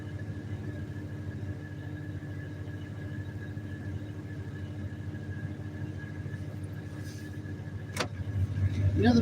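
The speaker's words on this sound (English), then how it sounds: "This truck sounds like shit tonight." Pickup truck engine idling rough at night, a steady low rumble with uneven pulsing throughout, a sharp brief click near the end and the engine note swelling slightly louder in the last second.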